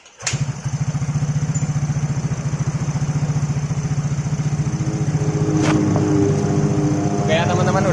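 Honda Mio motorcycle engine idling just after starting, a steady, rough, rattling putter held close and loud for several seconds, slightly noisy with a loose air hose, with a few brief clicks and a faint voice near the end.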